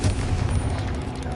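Bombarda and Confringo spell explosions in the Hogwarts Legacy video game make a dense, loud rumbling blast that fills the whole short moment, heavy in the low end.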